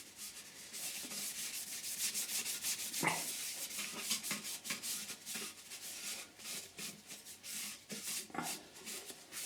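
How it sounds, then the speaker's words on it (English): Soft rhythmic rubbing as sanding sealer is applied to a sycamore bowl, repeated back-and-forth strokes close by, fairly quiet and continuous. "I'm just putting a sanding sealer on now."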